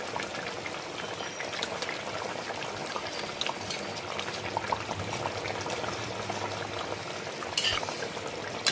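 A pot of boroli fish curry (jhol) boils on the stove, a dense close bubbling and simmering that stays steady throughout with a few sharper pops.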